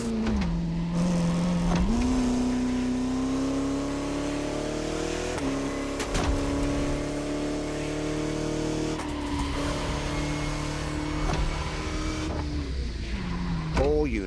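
A Bugatti driven along French countryside roads in the racing game The Crew Motorfest gives a steady engine drone that rises and falls in pitch with gear changes and throttle, loud and continuous throughout.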